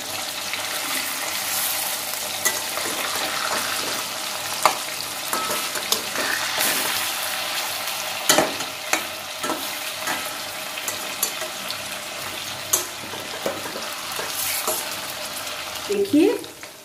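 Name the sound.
Aar fish frying and being flipped in a pan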